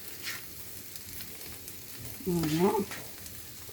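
Garlic frying in melting butter in a pan gives a soft, steady sizzle that swells briefly near the end. A single short spoken word is heard over it.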